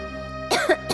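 A woman coughs twice in quick succession, short and rough, over a sustained droning musical tone.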